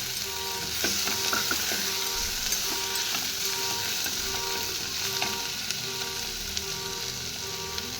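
Steady, even sizzle of food lightly frying in a pan for a high-protein breakfast, with occasional faint clicks and scrapes of stirring throughout, no voices.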